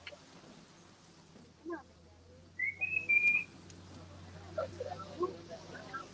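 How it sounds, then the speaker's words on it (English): A few short, rising whistled notes from a person cut through quiet outdoor forest background at Animal Kingdom, with faint scattered chirps and a low steady hum throughout. "These animals aren't trained to your whistling sound."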